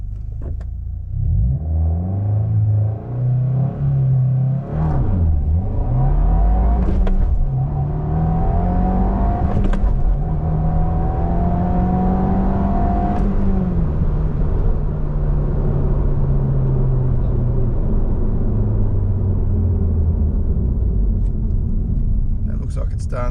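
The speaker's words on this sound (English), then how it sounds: "I'll do a pretty aggressive launch, but not super aggressive." A 2024 Subaru WRX with a manual gearbox launches hard from rest, its engine revving up and climbing through gear changes with a rumbling exhaust. The pitch rises, drops briefly and rises again, then settles into a steady pull. Occasional talk sits underneath.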